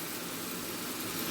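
A steady low rumbling hum with a broad hiss on top from an electric kettle still rumbling after being switched off, continuous and even throughout, nearby and moderately loud.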